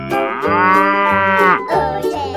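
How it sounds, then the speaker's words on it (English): A cow moos loudly and close, a deep, drawn-out bellow in a couple of phrases heard alone, with no talking. "Cow."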